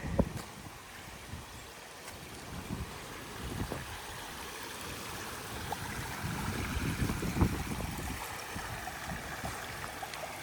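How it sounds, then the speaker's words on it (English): A large backyard pondless waterfall in a Japanese-inspired garden, about 25 feet long, gives off a soft, steady wash of flowing and splashing water, fairly quiet and continuous with no voices. "large pondless waterfall"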